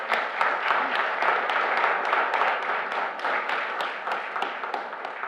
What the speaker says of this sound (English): please give a round of applause to these 5 folks up here for their job